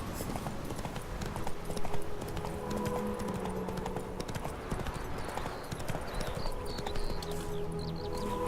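Continuous rhythmic clip-clop of horse hooves at a steady pace, fairly close, with an occasional snort and light ambient sounds, from the video game The Witcher 3: Wild Hunt.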